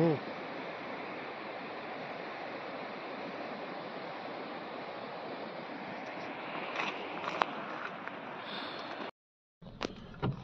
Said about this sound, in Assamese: ইয়াত বৰ ধুনীয়া নিজৰা এটা আছে, পানী পৰি আছে